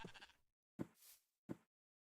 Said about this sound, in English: Look at the cute little sheep.